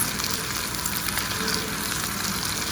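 Pork chops searing in a hot pan, a steady dense sizzle that holds loud and even throughout with no voices.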